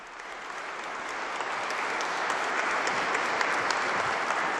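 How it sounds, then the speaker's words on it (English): Diplomats in the Aula della Benedizione applaud Pope Francis's speech, a dense, steady roar of many clapping hands that swells slightly and holds without pause, with no voices over it. "The diplomats here in the Aula della Benedizione, applauding the discourse of His Holiness Pope Francis"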